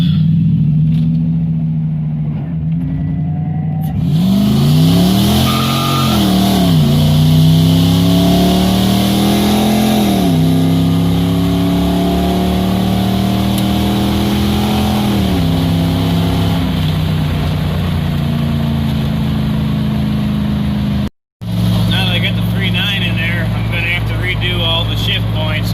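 A V8-swapped Nissan S13 revs and accelerates up through gears close by, the engine note rising and falling in repeated sweeps, then dropping briefly to silence before resuming with a rougher mechanical tone.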